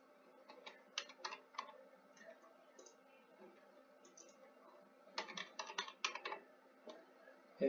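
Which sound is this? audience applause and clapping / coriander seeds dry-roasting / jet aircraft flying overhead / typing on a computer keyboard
typing on a computer keyboard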